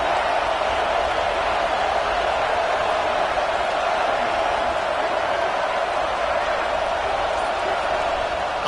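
A stadium crowd at a Gators football game roars in a continuous, dense wash of noise that holds steady and loud throughout without letup.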